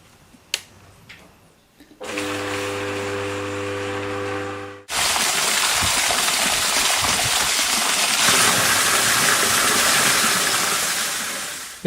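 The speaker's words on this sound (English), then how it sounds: "Water pump!" An electric water pump pumps out flood water at a Bangkok home, a steady loud whirring motor with a strong rushing, hissing water flow that starts abruptly and continues without a break.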